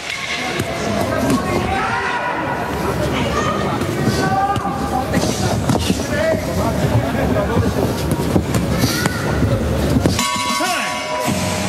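A boxing bell ends the third round of a bout. It rings briefly near the end, largely buried under continuous lively French commentary and the surrounding arena noise.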